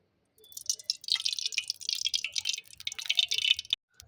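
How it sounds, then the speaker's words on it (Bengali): White cooking oil pouring into a pan, a soft continuous trickling splatter lasting a few seconds, close and quiet, starting and stopping abruptly. "এর জন্য সাদা তেল দিয়ে দেব।"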